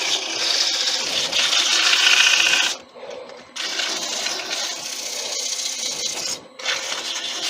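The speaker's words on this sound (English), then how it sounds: "give it a quick sand, because that's the last time you're going to be touching the bottom of this" Sandpaper rubbing a wood-turned tea light holder on a lathe: a steady, close, rasping hiss that runs in long strokes, broken by two short pauses.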